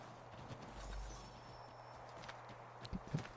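Horse hooves clip-clop in the Assassin's Creed video game as a rider pushes the horse through trees and over logs, with steady soft steps building to a few sharper strikes near the end, heard alone without talk.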